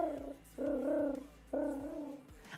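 A person imitates an owl's hoot with their voice, giving two close, sustained, breathy hoots that sound rather like a pigeon's coo, separated by a short pause.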